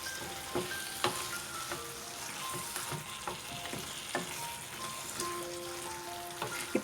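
Mutton roast sizzles on a medium flame while a spoon stirs it, a steady low frying crackle broken by repeated sharp scraping clicks against the pan.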